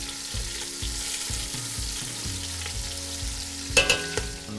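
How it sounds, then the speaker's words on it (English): Pork spare ribs sauté in a hot pan with toasting five-spice, giving a steady close sizzle with soft low clunks as the ribs are turned and a brief metallic clink near the end. "Carefully turn the ribs, making sure to saute all sides to develop flavor"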